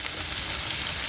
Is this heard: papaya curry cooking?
yes